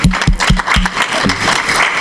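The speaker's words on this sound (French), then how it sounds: "C'est des encouragements, ces applaudissements" A conference audience in Ouagadougou applauds: a few sharp, evenly spaced claps open the clip, then a loose, continuous round of clapping from the crowd.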